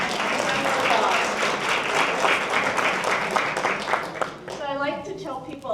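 A small cafe-event audience breaks into dense, sustained clapping that fills the room for several seconds, then thins out as a speaker's voice returns near the end.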